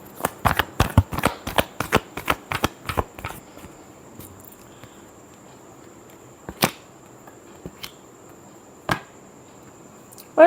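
A deck of tarot cards is shuffled close up: a quick series of sharp papery slaps for about three seconds, then a few isolated taps amid quiet room tone.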